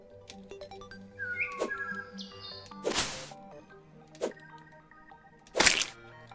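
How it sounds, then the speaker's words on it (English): Short bird chirps from a small bird in Terraria, scattered between sharp loud cracks and thwacks of combat, over quiet game tones and plinking effects. "look, a birdie."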